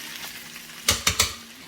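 Chicken adobo frying in a pan gives a steady close sizzle. Three quick, sharp stirring scrapes come near the end, and no one speaks.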